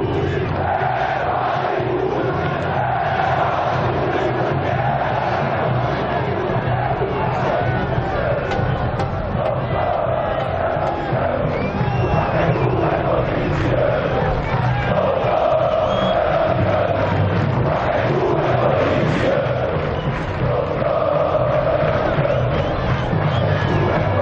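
Football fans at Pacaembu stadium keep up a dense, continuous roar of chanting and crowd noise at steady loudness, with voices of broadcasters mixed in.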